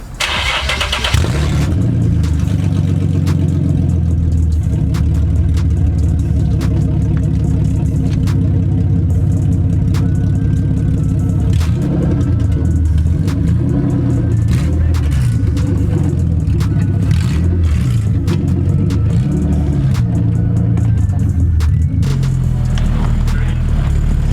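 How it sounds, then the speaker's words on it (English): A Nissan 370Z engine cranks to life, then idles and revs repeatedly with a deep, loud V8-like rumble that continues throughout. "now back to turning on my car and sounding like a V8"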